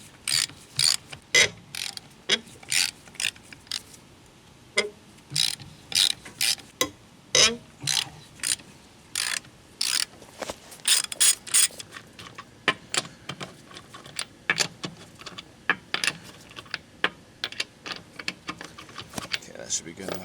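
A hand ratchet works on a car wheel during a rear brake job, with repeated bursts of sharp clicking strokes, close and fairly loud, separated by short pauses.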